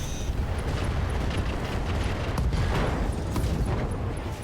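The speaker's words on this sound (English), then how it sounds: "AC-5 ammo explosion, was a critical but hit, the ammo explosion was contained." An AC-5 ammunition explosion rips through a Clint mech in the video game RogueTech, a dense, sustained rumbling blast with crackling debris that stays loud and close throughout, with no talk over it.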